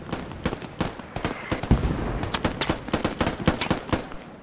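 Dense gunfire crackles in the video game SquadOps, many overlapping shots from several weapons in rapid irregular bursts, some loud and near, others more distant.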